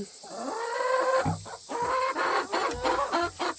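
Hens cluck and squawk in a busy, overlapping chorus close by, with short sharp calls and a steady hiss in the background.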